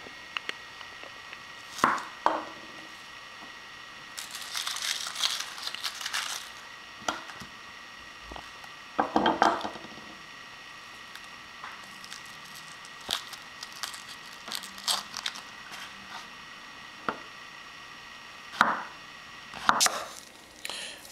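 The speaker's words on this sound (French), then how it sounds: "La première étape, éplucher et couper les oignons." Onions being peeled and chopped on a board for carbonara, heard as scattered knife chops and crinkly tearing of dry skins in irregular bursts with quiet gaps between, close and moderately loud.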